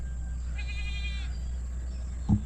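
A goat gives one clear, wavering bleat lasting under a second, fairly close, followed by a short dull thump against a steady background hum.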